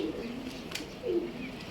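Pigeons on a rooftop give a soft, low coo, a brief murmuring call heard close by against quiet background noise.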